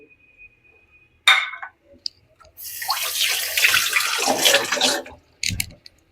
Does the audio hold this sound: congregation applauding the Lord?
no